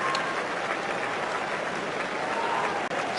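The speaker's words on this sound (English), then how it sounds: "So warm applause for Brad Barrett as they go short in the line-outs." Rugby crowd at a Bath v Saracens match applauding warmly, a continuous broad wash of clapping and crowd noise heard from a distance throughout.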